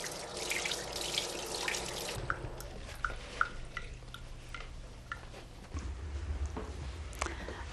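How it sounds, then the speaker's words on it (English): Cold water runs steadily from a tap over a baby's feeding bottle to cool freshly made formula, a close continuous splashing stream with small drips and shifts in flow. "you can cool the feed under a cold running tap"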